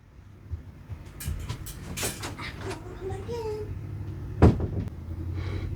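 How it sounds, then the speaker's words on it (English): A door shuts indoors with one solid, close thud near the end, over a steady low background rumble and faint, indistinct voices. "Close the door."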